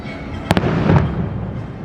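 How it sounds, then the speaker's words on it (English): Fireworks go off at Disney at Christmas, a couple of quick pops and a muffled bang heard at a distance over steady outdoor crowd rumble. "Fireworks are going up over there."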